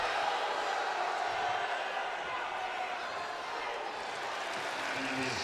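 Crowd noise fills a college wrestling arena during a Michigan vs. Michigan State Big Ten dual meet, a broad, sustained roar of spectators with a commentator's voice talking over it.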